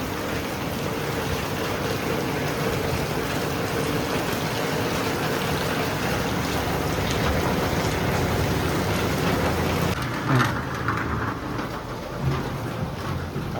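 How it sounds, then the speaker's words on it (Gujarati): Heavy rain pours down in Mevana in a dense, continuous roar that stays loud and steady throughout, with a few sharper splashes near the end and no voices. "મેવાણામાં વરસાદ બૂમ પડાવે,"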